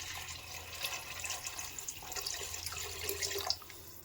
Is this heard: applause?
no